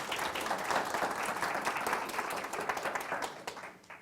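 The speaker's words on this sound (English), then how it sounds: "So please give Tina a warm round of applause." Warm round of applause from the audience at a 2016 genealogy day session, dense steady clapping close and loud throughout before it thins out at the very end.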